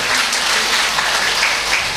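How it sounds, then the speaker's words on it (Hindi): A crowd applauds to welcome officials at a Shrimad Bhagwat Katha religious gathering at Rishishwar Mandir in Lohaghat, with dense, steady clapping that stays loud and close throughout. "मैं चाहूँगा आप लोग तालियों से उनका स्वागत करेंगे।"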